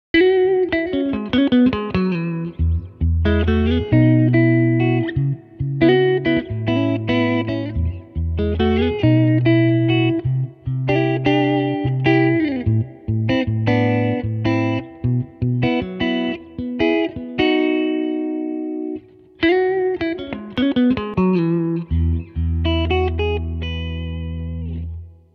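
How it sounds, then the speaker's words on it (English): A Fender Player Plus Telecaster plays chords and single-note phrases through a Fender Tone Master Super Reverb amplifier, warm and reverberant, with brief pauses between passages. "now you're going to hear the guitar coming out of the Tone Master Super Reverb"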